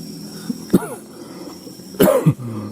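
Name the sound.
man coughing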